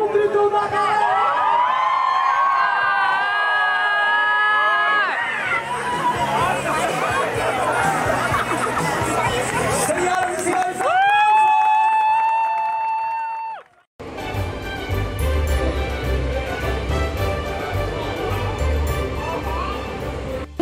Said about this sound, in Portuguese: Um grito da galera! Vai!